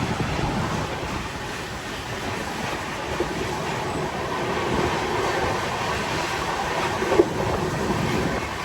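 Steady rumble and rattle of a moving passenger train in India at sunset, continuous and close from start to end with a faint clack of the wheels, no voices.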